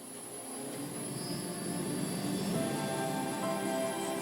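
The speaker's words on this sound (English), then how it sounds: "Plane's getting ready to take off." An airplane engine in Final Fantasy VII Rebirth spools up before takeoff, a steady droning whine with a whistling high tone that swells gradually and stays loud and continuous, with no voices.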